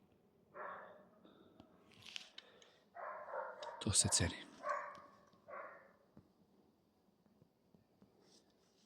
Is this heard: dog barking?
yes